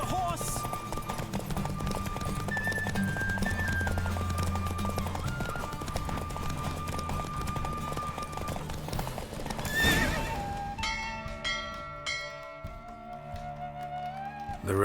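A horse gallops in a race in the video game The Witcher 3, with rapid rhythmic hoofbeats under game music and a neigh near the end, as the music shifts.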